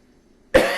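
A single sharp, close cough bursts out abruptly after near silence, loud and brief, from someone in the middle of a webinar presentation.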